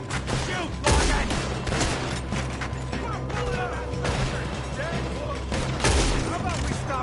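Gunfire in the video game Red Dead Redemption 2, a western shootout with several sharp, loud shots and bursts scattered over a continuous rumble of action, with shouting voices mixed in.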